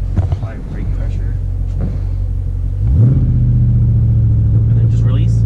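A Jeep SRT idles with a low rumble, then its engine revs up sharply near the midpoint and holds a loud, steady roar as a launch-control start begins, while people talk over it close by.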